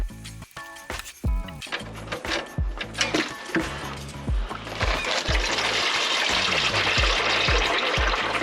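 Engine oil draining from a Porsche 911 turbo, first a series of metallic clicks and knocks as the plug is worked loose, then a steady rushing pour of liquid growing louder and continuous near the end.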